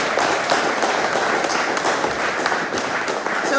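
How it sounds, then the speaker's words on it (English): An audience at a speech event claps in steady, dense applause for several seconds, with crowd noise mixed in. "I need a round of applause for that."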